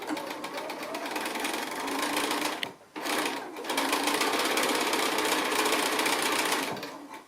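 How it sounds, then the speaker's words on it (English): A sewing machine stitching quilting fabric along a diagonal line in a fast, steady whir, pausing briefly before starting again, with some faint talk mixed in. "then we're just going to go to the sewing machine, and I'm just sewing right along that longer diagonal line"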